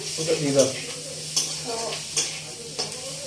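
Food fries and sizzles softly in a pan on a gas stove for rice and roti, with scattered stirring scrapes and taps and quiet talk in the background.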